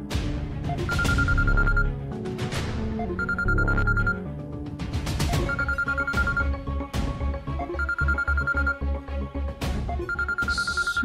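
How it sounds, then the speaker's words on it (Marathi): A landline-style telephone rings in repeated bursts with short gaps, loud and close, over a steady bed of background music with no talking. "सुजित सरांचा फोन"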